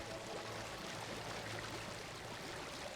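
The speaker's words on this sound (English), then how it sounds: "I can hear the waterfall." A waterfall in the StarCraft 2 video game gives a faint, steady rushing and gurgling stream of water, continuous and even for a few seconds with no talk over it.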